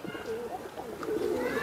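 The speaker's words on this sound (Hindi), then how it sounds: "कितना बेहतरीन तांवड़ा कबूतर है माशाल्लाह" A tawda pigeon coos softly in a low, steady run of repeated notes, fairly close by with faint background noise.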